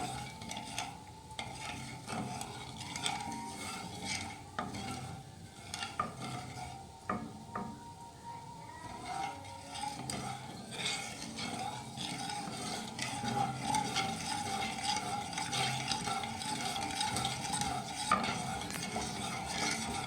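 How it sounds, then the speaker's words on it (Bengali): Sugar syrup is stirred steadily in a pan while making langcha sweets from puffed rice, giving a continuous close scraping and swishing with a soft simmering bubble underneath, with no talk. "শিরাটাও আস্তে আস্তে হচ্ছে, আর এভাবে নাড়তে থাকছি।"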